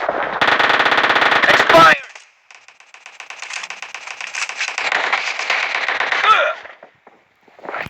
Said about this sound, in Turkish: Uzi'ye hiç kimse dayanamaz arkadaşlar ya